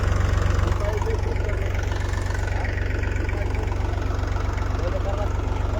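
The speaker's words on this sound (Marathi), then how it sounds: "हे बघा मित्रांनो दोन ट्रॅक्टर आहेत चालू" Two tractors run together in a field during sowing with a seed drill, making a loud, steady, throbbing engine drone that never changes across the stretch, with a voice faintly over it.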